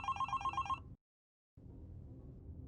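A telephone bell rings in a rapid repeating trill, fairly close and clear, stops abruptly, then after a brief gap a low, muffled rumble of room noise continues without any speech.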